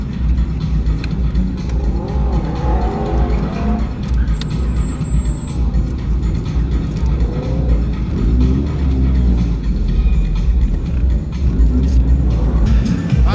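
A car engine runs with a steady low rumble, and people talk over it throughout.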